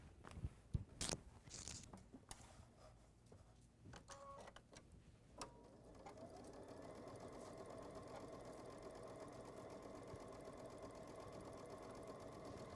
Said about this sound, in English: I'm gonna go ahead and stitch on all 3 sides